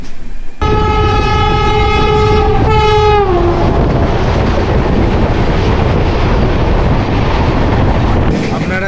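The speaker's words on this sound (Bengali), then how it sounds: "দেখলেন যে পাটনা হাওড়া বন্দে ভারত এক্সপ্রেসের ক্রসিংটা" A Patna-Howrah Vande Bharat Express crossing sounds two loud blasts of its horn up close, then rushes past in a heavy, continuous roar of wheels and carriages that fills the rest of the clip.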